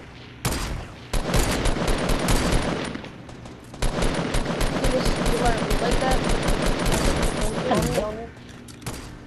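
Rapid bursts of automatic gunfire in a Fortnite squads match, long sustained volleys broken by brief pauses, loud and close, with players talking over the shooting.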